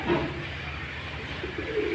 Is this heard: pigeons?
yes